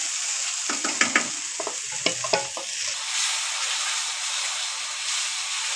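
Tomato purée paste frying in a pan for a prawn malai curry, a spoon scraping and stirring in quick strokes for the first few seconds before a steady, even sizzle carries on alone.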